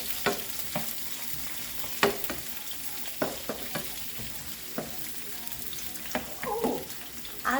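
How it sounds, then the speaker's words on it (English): Onion and bite-sized sausage pieces frying in a pan, a soft continuous sizzle broken by scattered clicks and scrapes of stirring, fairly quiet and close. "Now we add onions, one whole onion,"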